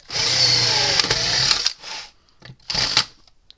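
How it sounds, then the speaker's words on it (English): A power drill whirs steadily for nearly two seconds boring into the plastic casing of a Gallagher electric fence charger, then gives a few shorter bursts with brief pauses between, close and loud. "we're going to probably going to drill some more out of it"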